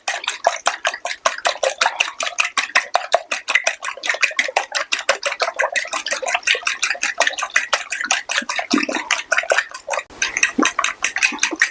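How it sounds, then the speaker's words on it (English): Eggs whisked in a bowl for homemade mac and cheese, a fast, steady run of sharp clicking strokes against the side, close and alone, with a brief pause and a thumping knock near the end. "Now you're going to want to whisk your eggs."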